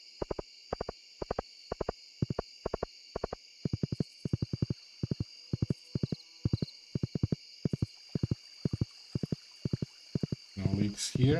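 A horse in the Stardew Valley video game clip-clops in a brisk, even run of hoofbeats, loud and close, over a faint sustained game tone, with a brief burst of other sound at the end.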